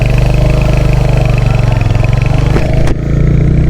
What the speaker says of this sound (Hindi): देखिए थंप को सुनिए आप, कितना सही थंप आता है